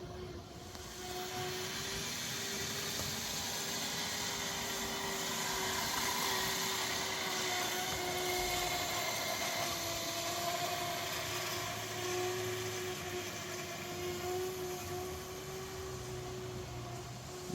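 A model train locomotive running light engine up a 3.8% grade in the rain, giving a steady, continuous motor drone with a constant hiss of rainfall throughout.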